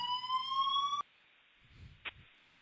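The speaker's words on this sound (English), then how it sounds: "The alarm went off." A loud electronic alarm blares with a steady pitched tone for about a second, then cuts off abruptly, leaving low background noise and a brief faint thump.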